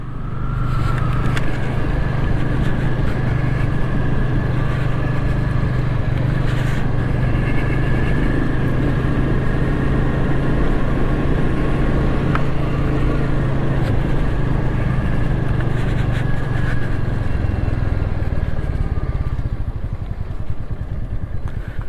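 A Royal Enfield Meteor 350, recently given a valve adjustment and air filter mod, thrums steadily on the road, its single-cylinder engine loud and close under rushing wind for the whole ride.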